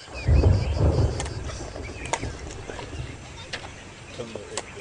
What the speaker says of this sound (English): By the afternoon, a thunderstorm looms over Johannesburg.